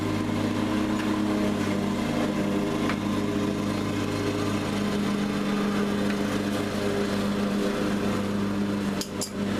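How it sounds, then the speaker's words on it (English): A neighbor's lawn mower drones steadily nearby, a constant mid-pitched engine hum through the whole stretch, with a brief clank near the end. "neighbors are mowing their yard, so it's going to be a little bit noisy"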